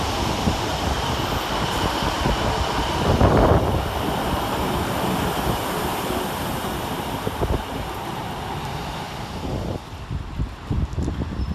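A Northern Rail class 331 electric train pulls out of Leeds railway station in heavy rain at rush hour: a broad, rushing rumble of wheels and motor blended with wind and rain noise, fairly distant and steady, with no talk.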